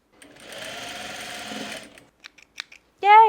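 A sewing machine runs steadily for just over a second while stitching the hem of gingham pants, whirring up close. It then stops, a few small clicks follow, and a voice begins at the end.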